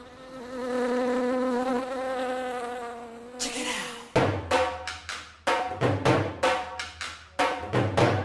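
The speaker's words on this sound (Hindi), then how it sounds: "मुझे लगता है कि डेंगू का मच्छर बैठा था।" A dengue mosquito's thin, steady buzzing whine drones for about three seconds, then gives way to a run of sharp, loud percussive hits in an uneven rhythm; no one speaks.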